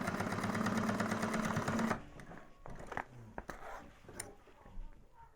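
A sewing machine topstitches through a bag lining and runs rapidly and steadily for about two seconds, then stops, leaving soft fabric rustling and handling clicks.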